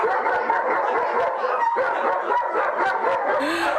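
Several dogs bark and yip in a busy, continuous cluster, fairly close and loud, with whimpering mixed in and no talk over them.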